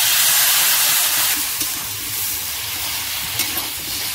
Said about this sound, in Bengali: লঙ্কাটা সামান্য করে জল দিয়ে দিচ্ছি